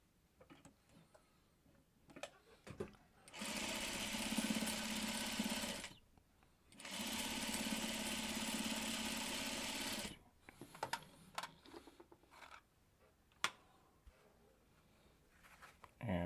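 A sewing machine stitches quilt blocks together in two sustained, fast whirring runs, each a few seconds long, with a short pause between them and quiet handling clicks and fabric rustles before and after.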